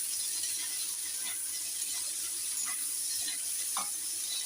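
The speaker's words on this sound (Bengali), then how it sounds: "পেঁয়াজটা দেওয়ার পরে আমি একটু নাড়াচাড়া করছি" Sliced onion fries in a pan under a constant bright sizzle, with soft scattered clicks and scrapes as it is stirred.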